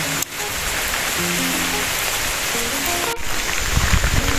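Heavy rain falls on a path outdoors, a loud, dense and continuous hiss of drops with no talking.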